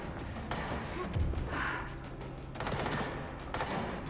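Gunfire in the video game Control comes as quiet bursts of shots and thuds against a background drone, somewhat distant and muffled.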